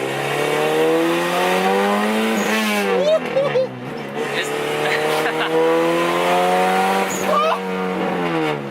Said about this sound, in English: I'm checking something on the tune from this Acura Integra. It makes 360 horsepower, 275 torque, and it's kind of loud.